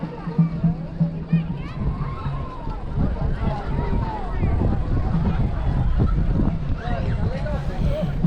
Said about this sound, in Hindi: पर हाँ हवा चल रही है ठंडी